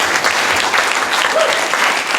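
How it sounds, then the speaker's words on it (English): Seminar attendees at a mastermind business session give a warm round of clapping for the presenting gentlemen, a thick, continuous applause filling the room at full strength, with a faint voice briefly audible beneath. "another round of applause"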